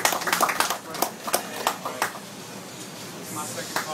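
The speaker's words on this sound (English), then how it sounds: "I'd like you to give a big round of applause for Frank Gallardo." At a boxing press conference, a few scattered, sharp claps greet junior middleweight boxer Frank Gallardo, irregular and thin rather than a full ovation, with voices talking alongside.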